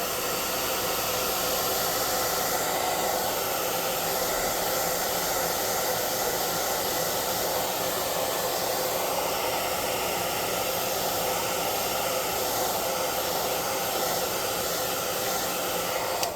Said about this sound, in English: I'm going to do air dry this side real quick so we can do the others.